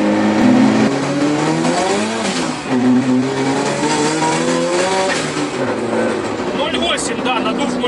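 A turbocharged Zhiguli car is driven hard after a gearbox replacement, its engine revving up and down with tires squealing, loud and close while people talk over it.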